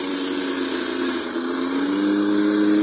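The T14-S50 soil scraping machine, built for clearing the ground around oil palms, runs its engine at a steady, high-pitched hum, loud and constant with no pauses.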